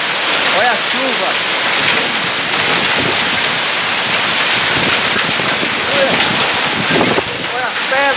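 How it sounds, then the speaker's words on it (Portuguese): Heavy rain mixed with hail pelting down in São Paulo, a dense steady roar of impacts with gusting wind noise on the microphone, while a person exclaims over it at intervals. "Tá chovendo gelo aqui, ó"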